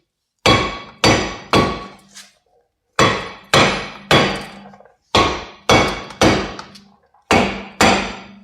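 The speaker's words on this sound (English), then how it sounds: "If all else fails, get a bigger hammer." Heavy hammer blows on the rear brake rotor of a Porsche 944, delivered in four quick bursts of three ringing metallic strikes each, loud and close with short pauses between.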